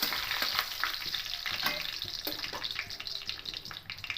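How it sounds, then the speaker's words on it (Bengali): Cumin seeds, two dried red chillies and a bay leaf crackle in hot oil, a loud, dense, continuous sizzle up close with a few light stirring clicks mixed in. "গোটা জিরে ফোড়ন দিলাম দুটো শুকনো লঙ্কা দিলাম একটা তেজপাতা দিলাম হালকা করে একটু নেড়ে নেবো"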